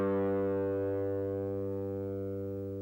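One open fifth string of an electric guitar, detuned down to G, is plucked and left to ring by itself, a steady sustained note that decays gently over a few seconds, close and clear.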